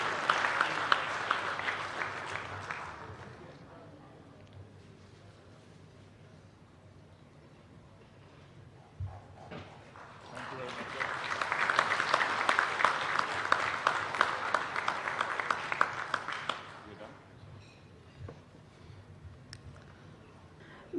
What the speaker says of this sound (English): Ladies and gentlemen, a big round of applause for him.